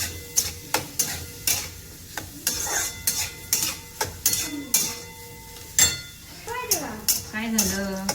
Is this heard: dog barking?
no